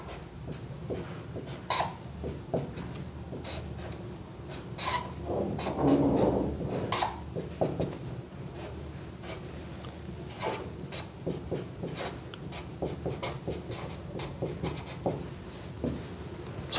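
Marker or chalk writing chemical structures on a board during an organic chemistry lesson: short scratchy strokes and taps come in irregular bursts, close and fairly quiet, with no talking.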